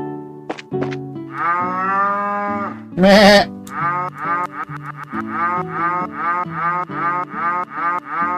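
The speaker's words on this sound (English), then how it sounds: "It's a cow!" A cow moos repeatedly in Trails in the Sky FC on a farm, with long tonal calls and a rhythmic series of shorter moos, clear and alone apart from a brief burst of noise.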